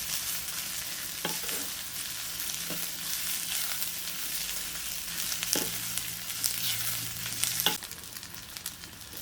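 Onions fry in a pan for a Tulu Nadu style dish, a steady bright sizzle throughout with occasional soft clinks and scrapes of stirring, close and alone without talk.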